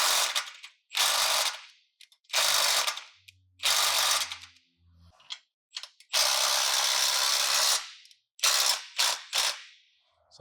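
Ratchet wrench tightening the mounting bolts of an aftermarket bumper on a Lexus GX 460, loud close bursts of rapid clicking repeated in several runs with short pauses between, no talking.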